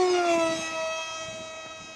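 Racerstar BR2406S 2600 Kv brushless motor spinning a Gemfan 6045 propeller on 3S at full throttle, a loud sustained high-pitched whine that dips slightly in pitch as it pulls, close and steady.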